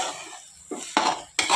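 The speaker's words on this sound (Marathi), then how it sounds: "सगळं मिक्स करून घेऊया." A spatula scrapes and knocks in a pan while mixing potato filling for aloo paratha with the heat off, three sharp clinks and scrapes close by.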